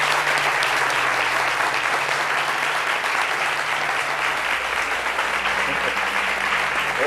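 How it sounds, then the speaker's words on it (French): Studio audience at a French midday television show applauding a guest, a sustained, even roar of many hands clapping throughout, with a faint low hum beneath. "Le public vous applaudit et on vous reçoit."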